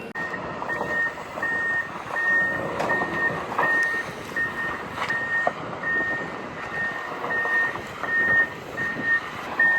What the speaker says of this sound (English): got the excavator and skid steer, still doing some work trying to clean up the back side of the dam